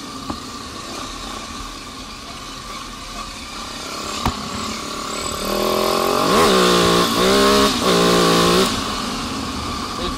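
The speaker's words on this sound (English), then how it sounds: "It's fast, this bike." A motorcycle engine drones loud and steady while riding fast, then swells louder partway through with rising revs and a couple of brief gear changes. No one talks.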